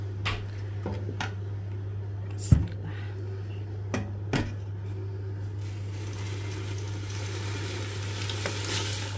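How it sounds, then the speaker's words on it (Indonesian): Coconut milk boils in a pot while yellow rice is being cooked, giving a steady low bubbling and sizzling with a few sharp clinks of a utensil against the pot. "sekarang santan sudah mendidih"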